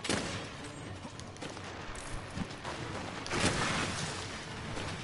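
A heavy bowgun in Monster Hunter World fires paralysis ammo in a dense, continuous volley of loud shots and booms, rolling on with no talk.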